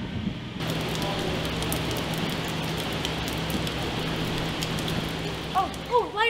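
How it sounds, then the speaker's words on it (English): Steady rain falls throughout as a continuous broadband hiss, a constant wash with no breaks, with a low hum underneath and a few brief chirpy sounds near the end. "I hear that it's supposed to rain today. I feel like I already hear it"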